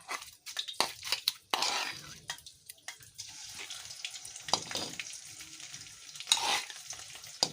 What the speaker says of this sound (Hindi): ये 3 टेबलस्पून हमने इसमें दही ऐड कर दिया है। मिक्स करेंगे इसको।